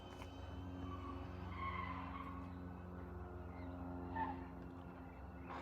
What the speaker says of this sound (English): back up that really steep driveway and spinning his wheels